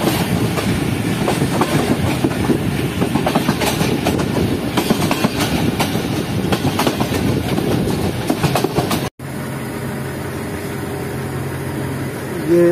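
A Shah Hussain Express passenger train rolling over temporary diversion tracks, heard from on board as a loud, steady rumble with rhythmic clickety-clack of wheels over rail joints, briefly cutting out near the end before resuming.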